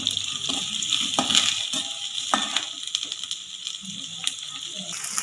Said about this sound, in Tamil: நம்ம நறுக்கி வச்சுருக்க வெங்காயத்தை போட்டுக்கலாம்.